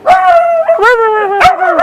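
A dog close by gives loud, drawn-out howling barks and whining yips, several in a row with pitch sliding down, excited and insistent in an indoor setting.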